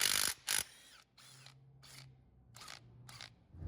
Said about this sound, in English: I'm gonna use my small impact and about a 10-inch extension and a 14 millimeter wobble socket